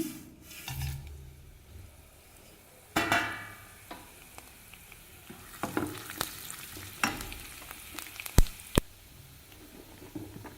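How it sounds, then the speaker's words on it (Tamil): Fennel, cumin, cardamom, cloves and cinnamon frying in oil for a Tamil chicken gravy give a light sizzle, broken by scattered stirring scrapes and sharp spoon taps against the pan, close by. "பெருஞ்சீரகம் சீரகம் ஏலக்காய் கிராம்பு பட்டை இதை எண்ணெயில் போட்டுக்கலாங்க"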